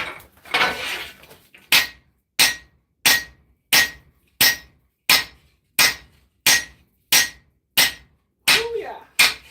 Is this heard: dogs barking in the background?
no